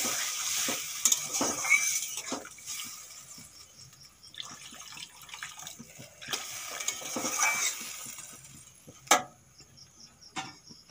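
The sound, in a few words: potatoes and spices sizzling in pan after adding water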